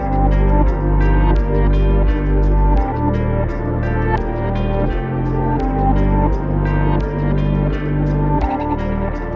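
A Christmas hip-hop beat breakdown plays loud and continuous, a heavy gliding Reese bass rolling under a looping effects-laden melody with echoing textures and a steady pulse, no voices.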